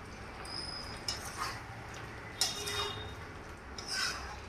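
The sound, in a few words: stirring prawn curry with brinjal and potato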